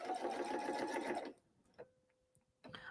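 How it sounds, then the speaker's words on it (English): A sewing machine stitches a holiday pillow in a fast, steady mechanical whir that stops abruptly after about a second, leaving small clicks before a short burst of stitching resumes. "I don't mind stitching over things a little bit, just to make sure that everything's good and sturdy."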